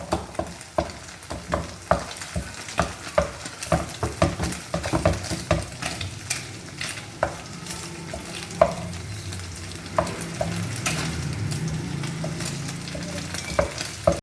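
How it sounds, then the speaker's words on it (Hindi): Beaten eggs sizzle and fry in a pan while a utensil scrapes and stirs them into pieces, steady frying hiss under repeated sharp scraping taps, with no talking. "हमारे अंडे फ्राई हो चुके हैं।"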